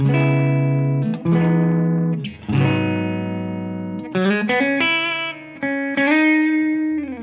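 A Telecaster electric guitar played clean through a Fender Tone Master amp with a little reverb, ringing chords and single notes struck in a loose series, each sustaining and decaying before the next, with no talking.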